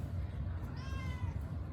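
A pet cat gives a single drawn-out meow, rising then falling, faint against a steady low background hum in a home.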